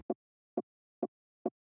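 An unpitched percussion sample plays alone, four short, dry clicky knocks spaced evenly and quite faint, with silence between each hit.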